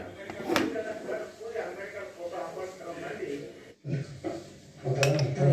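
A pressure cooker lid is set down and closed over a pot of lentils, tomato and green chillies, giving a few metallic clanks and scrapes close by, mixed with kitchen clatter and a voice talking.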